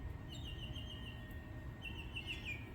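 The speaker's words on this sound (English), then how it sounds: "Bird is singing to me this morning." Faint bird song drifts in from a distance, a few thin high chirping phrases over a steady low outdoor rumble.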